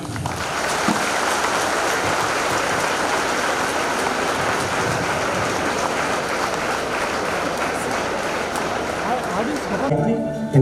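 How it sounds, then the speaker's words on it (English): A seminar audience at an engineering college in India claps for a visiting Microsoft India managing director, a dense and steady wash of applause lasting several seconds before it cuts off abruptly. "Give a big clap."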